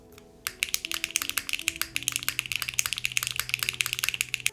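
Rapid close typing on a Mode Envoy keyboard with HMX Xinhai switches and an aluminum plate, a dense run of crisp keystroke clacks with an uneven rhythm over faint background music.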